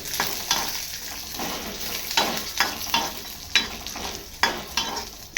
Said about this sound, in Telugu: పప్పులు అయితే వేసేస్తున్నాను రెండు స్పూన్లు కొంచెం చింతపండు వేసేసి ఫ్రై అయితే చేస్తున్నాను